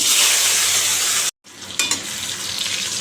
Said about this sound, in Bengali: এই আলুটা ছেড়ে দিয়ে এবার